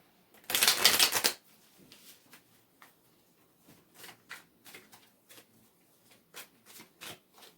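Vice Versa Tarot cards being shuffled, starting with one loud riffling burst followed by a series of softer, scattered card flicks and taps close by.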